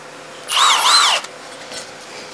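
A Milwaukee M18 CHIWP cordless impact wrench whirs up and winds down on car wheel nuts in one short, loud, rising-and-falling burst of under a second, followed by quiet.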